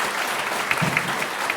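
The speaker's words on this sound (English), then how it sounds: "So give them a round of applause" Audience at a book launch in Corofin, County Clare, applauding the organizer and a sign language interpreter; loud, continuous clapping from a full room, close and sustained throughout.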